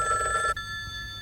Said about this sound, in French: Téléphone, c'est le docteur Bondurant.